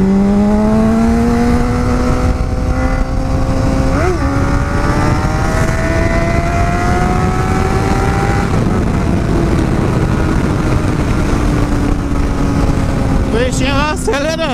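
Honda CBR600RR sport motorcycle engine revving up and holding high, steady revs with rising pitch sweeps, loud and close, in São Paulo traffic while the bike was misfiring.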